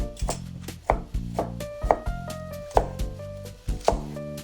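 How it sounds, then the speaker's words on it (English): A knife slices peeled ginger on a cutting board, about seven crisp, evenly spaced chops close by and fairly loud, with a low tonal hum underneath and no talking. "Remove the skin from the ginger and slice it."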